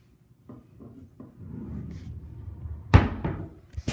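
A dresser drawer in a one-bedroom apartment slides shut with a sharp wooden thud, after a few soft knocks and rustles from handling the drawers.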